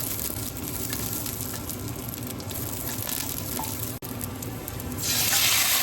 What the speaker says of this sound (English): We're going to saute ginger and garlic